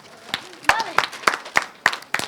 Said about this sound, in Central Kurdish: مناڵەکان چەپڵە؟